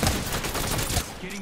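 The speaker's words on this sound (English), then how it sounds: "Getting shot at." Dense gunfire in Apex Legends, a rapid burst of close, loud shots packed together for about a second, then easing off into a softer tail.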